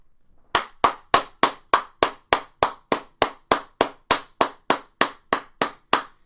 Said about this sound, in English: Everybody get some hand claps